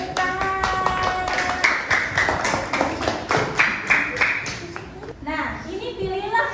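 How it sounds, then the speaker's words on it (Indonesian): A class of children clapping their hands together, a dense burst of rapid, close claps with children's voices and chatter mixed in, fading slightly toward the end. "good job. Tepuk tangan."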